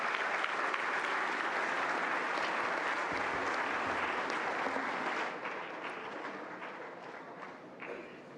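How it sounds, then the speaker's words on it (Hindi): A large audience at the National Teachers' Award 2024 ceremony applauds to welcome President Murmu, producing dense, sustained clapping that eases slightly toward the end. "जोरदार तालियों से स्वागत करें माननीय राष्ट्रपति महोदया का"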